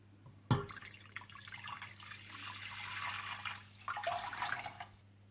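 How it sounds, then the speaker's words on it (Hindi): Water poured into a cooking pot to start an Afghani pulao, a sudden splash followed by a steady, close pouring rush for several seconds with a brief break, then ending abruptly. "सबसे पहले आप एक बर्तन में 5 कप पानी डाल लें।"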